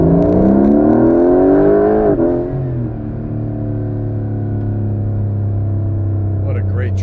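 A Porsche 911 Carrera 4 GTS T-Hybrid on a country drive, heard from inside: the engine climbs in pitch, drops back as it shifts, then settles into a steady, loud cruising drone.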